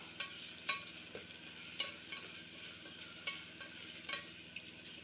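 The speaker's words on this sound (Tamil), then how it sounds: "வெங்காயம் நல்லா வதங்கட்டும்" Soft sizzling of onions and green chilli sautéing in a pan with periodic scraping clicks of a spoon stirring, fairly quiet and close, no voices.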